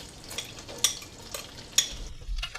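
Garlic and red pepper flakes stirred in melted butter give a faint, steady sizzle, broken by a few soft clinks and scrapes of the utensil against the pan.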